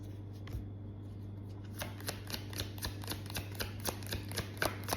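Tarot cards being shuffled, a run of crisp riffling card flicks that grow busier after a quiet start, close up over a steady low hum.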